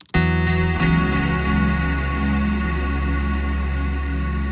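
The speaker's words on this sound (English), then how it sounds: "So here's the bass and the guitar together." Bass and guitar sounding together in an ambient mix: a struck chord with a second attack shortly after, then a deep bass note sustaining steadily underneath shimmering guitar overtones, loud and unbroken.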